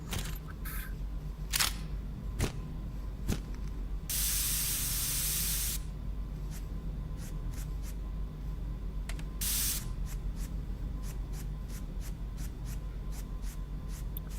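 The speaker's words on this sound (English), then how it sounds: "I didn't need to spray that much oil." Gun oil sprayed onto a rifle buttstock in the video game Into the Radius 2. Two longer hissing spray bursts are surrounded by many quick clicks and ticks over a steady low background hum.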